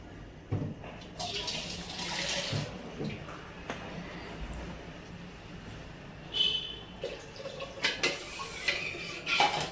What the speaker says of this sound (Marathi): मला अजून सुद्धा पाणी टाकायची गरज आहे थोडीशी.